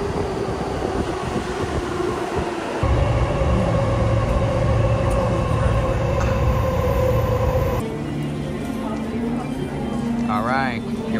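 A Tokyo train at rush hour rumbles steadily and loudly, with a deeper roar setting in partway through and easing later, while a voice talks over it.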